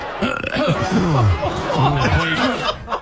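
A long, drawn-out burp rumbles out, followed by snickering and chuckling voices nearby.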